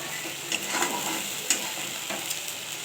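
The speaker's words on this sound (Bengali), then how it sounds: "ভালোভাবে কষিয়ে নেব।" Lentil fritters stirred and sautéed in mustard oil in a pan, a soft steady sizzle with occasional scraping clicks of the spoon, close and moderately quiet, no talking.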